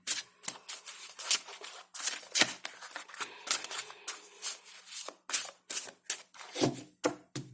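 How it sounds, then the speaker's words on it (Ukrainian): Tarot cards riffled and shuffled up close, in quick repeated bursts of crisp flicking and slapping, with no talk. "гарно помішати люди, щоб не повторювалися карти."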